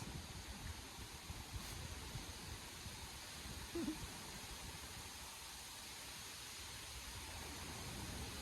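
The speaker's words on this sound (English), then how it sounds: "I like the noise of the wind." Soft, steady wind noise outdoors, a gentle broadband hiss with a few faint gusts and bumps, fairly quiet.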